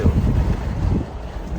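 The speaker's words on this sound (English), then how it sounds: "I had to take my hat off, it's too windy" Steady wind buffets the microphone at a scenic bridge view by the Hoover Dam, a low, continuous roar, rumbling and gusting throughout with no voices.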